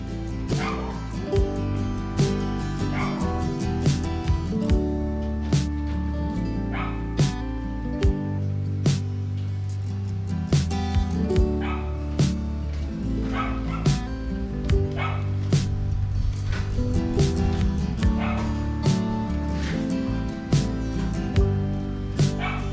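A dog barks over and over in sharp, irregular bursts, mixed with yips and whimpers, set against a steady background hum.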